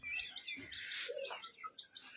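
Young pigeon chick chirping, a few thin high cheeps in quick succession, faint and close in a quiet room.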